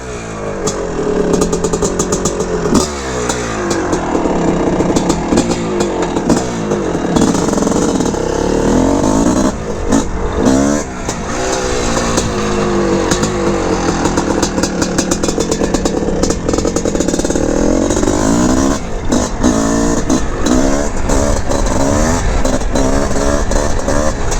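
A 1981 Honda CR450R Elsinore, an air-cooled 450 open-class competition motorcycle, revs hard and continuously up close, its loud engine rising and falling through repeated throttle blips.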